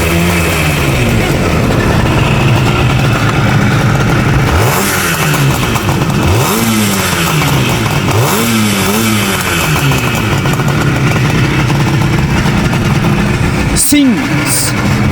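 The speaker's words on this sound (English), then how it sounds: "two-stroke engine and two carburetors and two cylinders." A 1974 Suzuki GT185 two-stroke, twin-cylinder motorcycle with two carburetors, heard through its muffler: a loud, close, raspy idle broken by several sharp throttle blips in the middle and another hard rev near the end.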